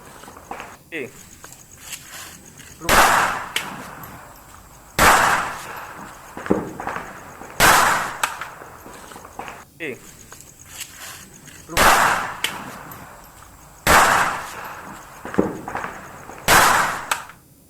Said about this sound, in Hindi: कोर्ट के रोक के बावजूद भी नहीं रोक रही है ये हवाई फायरिंग की तस्वीरें।